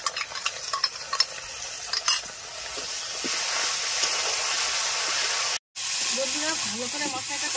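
Spice paste with chilli powder and whisked yogurt sizzles and scrapes as a spoon stirs it in a pan for a kofta curry, a steady hissing fry with clinks early on, pausing briefly near the end, with faint talk in the background.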